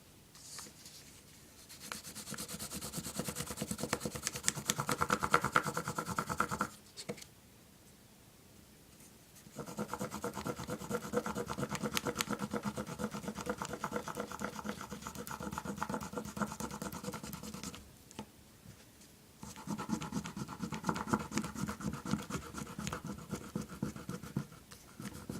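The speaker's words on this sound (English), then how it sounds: "with a wax stick, we rub yellow, orange or red over our leaves so we get autumn colors" A wax crayon stick rubbed over paper leaves in yellow, orange and red, making steady scratchy scribbling strokes in long bursts separated by short pauses, close up with no talking.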